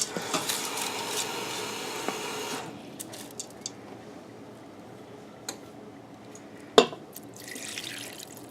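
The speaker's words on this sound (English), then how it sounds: "I might just add another half cup of water." Water poured into an Instant Pot over noodles for a shrimp vegetable noodle dish, a soft steady splashing trickle for a few seconds that then stops, followed by quiet kitchen handling and a sharp knock.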